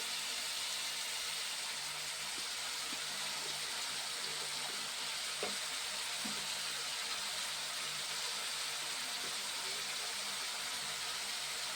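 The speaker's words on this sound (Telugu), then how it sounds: "కొంచెం వేగాలండి ఇవి." Food sizzles in a frying pan with a steady, even hiss and a few faint crackles scattered through it. The sound is fairly quiet and there is no talking.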